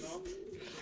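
A racing pigeon coos once, a brief soft murmuring call at the loft just after landing from a long-distance race.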